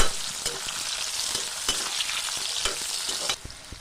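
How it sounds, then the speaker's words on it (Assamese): Cut pieces of raw mango stirred in hot oil in a wok give a steady, close sizzle and fry hiss, with a few light scraping knocks of the spoon. "তেলখিনি ভালদৰে গৰম হোৱাৰ পাছত মই তাতে কাটি থোৱা আমখিনি দি দিছোঁ আৰু এনেদৰে লৰাই দিছোঁ মই আমখিনি"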